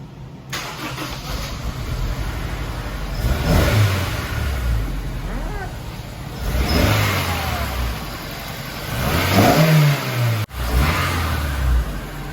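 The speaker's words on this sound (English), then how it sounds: "Prime that pump 3 times, and then you can go ahead and start the car." A Honda S2000 fires up after a fuel pump change, then revs in several rising bursts between idle stretches, loud and close with no speech.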